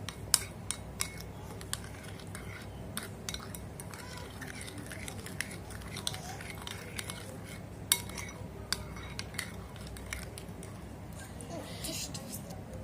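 A spoon mixes dry shawarma bun ingredients such as powder, salt and sugar in a bowl, giving scattered light clinks and scrapes against a quiet steady background noise.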